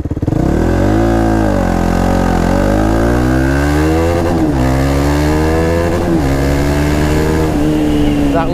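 KTM Duke 390 single-cylinder motorcycle accelerating hard on a night ride, loud and close, its engine note climbing through gears with brief dips at each shift.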